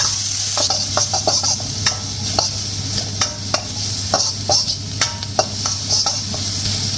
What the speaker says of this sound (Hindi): मैं अनियन को सोटे करूँगा